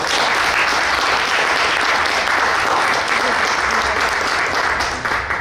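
A room full of people applauds a writer at a literary horror gathering: steady, dense clapping that stays loud and even for the whole stretch, easing off slightly at the very end, with no voices over it.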